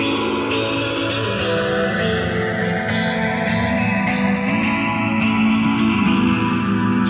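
An electric guitar plays through several effects pedals, with distorted, swirling sustained tones, chorus and reverb washing together, continuous and fairly loud.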